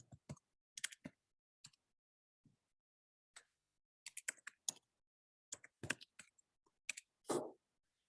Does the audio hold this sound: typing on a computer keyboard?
yes